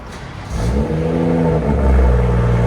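A 2018 BMW M240i with a 3.0-litre inline-six and resonator-deleted exhaust revs up from idle, a deep rising engine drone that builds and holds loud and close, with no talking.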